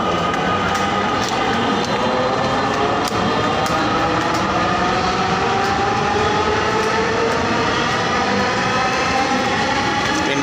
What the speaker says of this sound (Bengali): ট্রেনটা এসে পৌঁছাইছে।